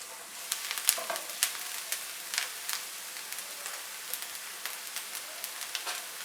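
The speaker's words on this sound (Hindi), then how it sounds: "इन दोनों को हल्का सा फ्राई करेंगे।" Onions and bell peppers sizzle softly in a pan, with a steady crackle and scattered sharp pops and taps, like vegetables being stirred over moderate heat.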